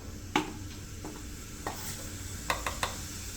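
Cumin seeds sizzle softly in hot peanut oil in a kadai, a faint steady hiss punctuated by a few sharp clinks of a spoon against the pan.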